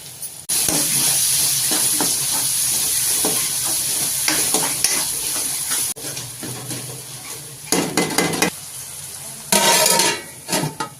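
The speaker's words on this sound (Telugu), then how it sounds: "బాగా తిప్పుకుంటున్నాను ఇప్పుడు టమోటాలు" Tomatoes are stirred in a hot pan with ginger-garlic paste for a country-chicken (natukodi) masala pulusu, giving a steady close sizzle with repeated scraping and clattering bursts from the spoon against the pan.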